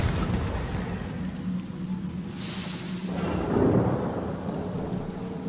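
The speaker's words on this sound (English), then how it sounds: "That guy must have had a bomb attached to him because he blew up." An enemy blows up in the Divinity: Original Sin Enhanced Edition role-playing game, giving a single rumbling blast with a bright crack near the middle, set over a steady bed of rain and low storm-like rumble.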